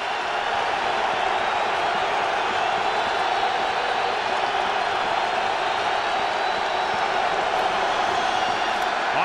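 A steady, dense roar of a stadium crowd at a 2010 NFL game between the Dallas Cowboys and New York Giants, continuous and loud with no distinct breaks.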